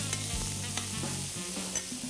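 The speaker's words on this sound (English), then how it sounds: "That's the sound I love, the sound of saute." Sweet corn and jalapeno sauté in olive oil in a hot pan, hissing steadily up close with a few scraping stirs and a low hum underneath, no voices.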